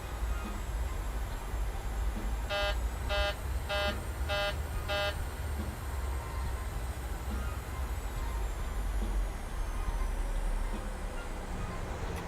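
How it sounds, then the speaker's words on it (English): A cockpit warning in Microsoft Flight Simulator 2020 sounds five short, evenly spaced electronic beeps over a steady engine hum, with no talk. "is it beeping at me?"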